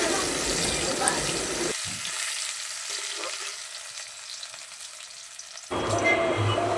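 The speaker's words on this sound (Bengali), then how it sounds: "ভালো করে ভেজে নেব পেঁয়াজ রসুনটাকে।" Chopped onion and garlic fry in hot oil with a loud, close, steady sizzle and crackle, which dips much quieter in the middle before flaring up again.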